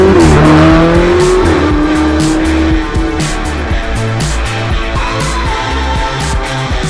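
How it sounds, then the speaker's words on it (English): A Ferrari 488 GTB with a mid-engined twin-turbo V8 drives hard on winding back roads in Chester County, Pennsylvania, its loud engine rising and falling through gear changes, with brief tire squeal, close by and steady. "This is the Ferrari 488 GTB in its element on the winding back roads of Chester County,"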